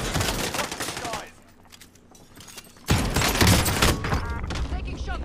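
Rapid bursts of gunfire in the Warzone video game, a loud dense volley, then a brief lull before another heavy stretch of shooting, with players talking over it.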